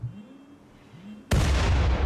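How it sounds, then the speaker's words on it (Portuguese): Bombs thrown by raiders explode in RimWorld: after a quiet stretch with a faint tonal hum, one sudden loud blast hits and its roar carries on to the end. "Ah, eles estão jogando bomba"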